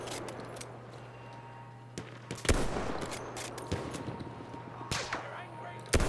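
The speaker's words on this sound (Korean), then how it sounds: "아, 밑에서도 쏘는데 막." Scattered gunshots crack across a Battlefield 1 match, sharp bursts popping out over a busy, rumbling in-game battle bed with a steady low hum, some shots louder and nearer than others.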